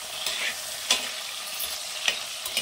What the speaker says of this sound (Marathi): आता इथं त्याच कढईमध्ये ना ही वांगी आपल्याला भाजून घ्यायची आणि अगदी एखाद दुसरा मिनिट हाय फ्लेमवर फक्त परतून घ्यायचे